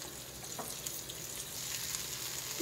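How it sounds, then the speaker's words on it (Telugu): Onion, dried chilli, curry leaves and turmeric frying in a pan, a soft, steady sizzle with faint stirring touches, fairly quiet and close, with no voice over it. "కొంచెం హాఫ్ ఆనియను, ఒక ఎండుమిరపకాయ, కొంచెం కరివేపాకు, పసుపు ఇవన్నీ వేసి వేయించాలి"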